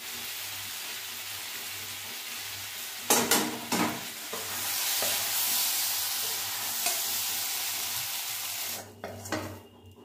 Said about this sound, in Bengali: দেখো আমার শিম ভাজাটা হয়ে গেছে